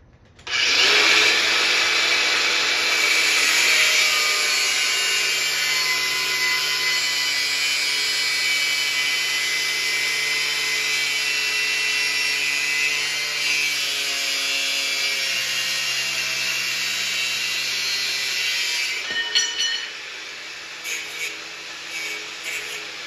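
Power tool cutting an arcade control panel part to length during a Paperboy cabinet restoration, a loud, steady high-pitched whine held for about nineteen seconds before dropping away into quieter intermittent buzzing.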